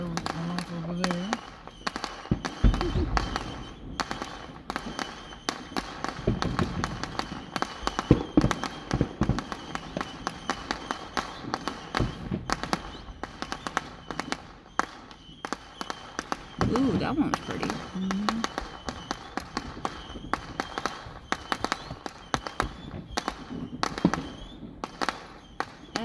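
A long run of screamer fireworks going off outdoors, dense crackling bursts and pops heard at a distance, with a person talking at times over the noise.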